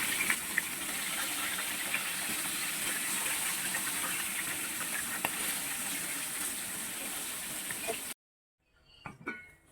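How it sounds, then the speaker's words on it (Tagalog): A pot of water boils on a home kitchen stove for a Filipino dinengdeng vegetable stew, giving a steady, dense bubbling hiss for about eight seconds before it cuts off, followed by a few faint clinks. "Ayan, nagpakulo na po tayo ng tubig."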